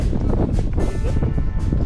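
Strong wind on a mountain peak roars and buffets against the microphone in a loud, continuous low rumble, with no clear voices.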